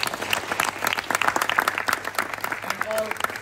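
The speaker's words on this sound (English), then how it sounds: "Give round of applause." Applause from a dinner audience for the hosts, dense clapping running steadily throughout at moderate loudness, with a voice briefly audible near the end.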